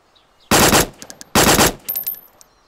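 Loud automatic gunfire in the video game DayZ: two close, sharp bursts of rapid shots followed by a shorter, quieter rattle, with no talking over them.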